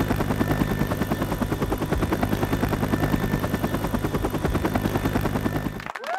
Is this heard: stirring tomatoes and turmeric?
no